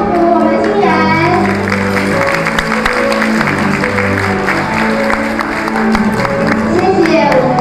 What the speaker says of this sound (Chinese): 我们用掌声来祝福我们的新人